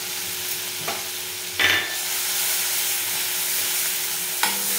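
A green paste of garlic, coriander and green chili drops into hot oil with asafoetida for a drumstick curry: a brief clatter, then a steady, close sizzle that holds to the end, with a light scrape of stirring near the close.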